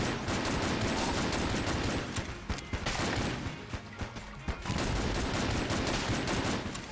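The plague pistol in the dungeon-crawler shooter Enter the Gungeon fires in rapid bursts, a dense rattle of shots that pauses briefly midway and then resumes, loud and continuous.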